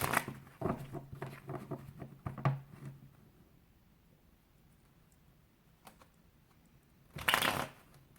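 Tarot cards are shuffled close by in a few quick riffling bursts of soft, papery flutter, followed by a quiet pause and one final brief rustle.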